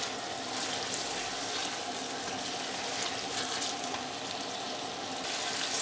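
Masala for chicken biryani fries in a pot with a dense, steady sizzle and crackle, close and loud, continuous throughout without speech.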